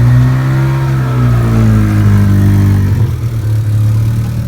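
An Acura Integra race car with a 2.5-inch pipe and welded muffler rumbles loudly up close, its exhaust revving with a deep, throaty tone that rises and settles throughout.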